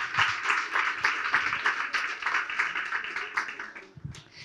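Applause from an audience at a round-table event, a dense steady patter of many hands clapping near the listener for several seconds, thinning out at the end.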